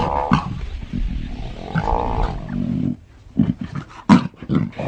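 An African lion pride roars in the wild, deep loud bellowing calls swelling for nearly three seconds, then breaking into a quieter stretch of shorter grunting roars and huffs that close in and fade, with no talk over them.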